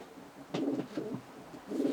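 A strong male Vandenburg breeding pigeon, ringed in 2021, gives a short pair of soft, low throaty coos, close by and fairly quiet.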